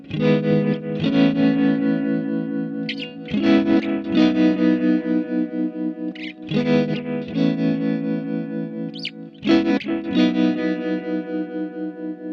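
An electric guitar plays through a VOX AC30 amPlug 2 on the delay setting with red tremolo, loud distorted chords in repeated phrases with pulsing sustain and short picked accents between them.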